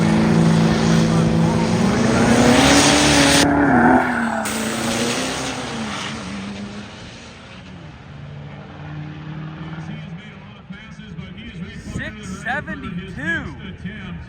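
A diesel Dodge truck at an all-truck burnout contest revs hard, its loud roar surging early on and then easing to a lower rumble, with a voice talking over it.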